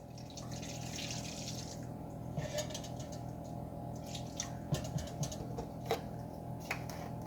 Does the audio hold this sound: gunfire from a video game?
no